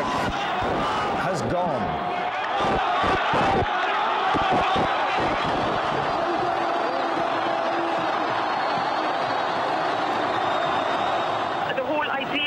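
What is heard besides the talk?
crowd cheering in Egypt as Mubarak's resignation is announced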